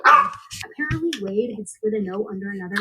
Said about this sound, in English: Sorry, y'all, that's my dog.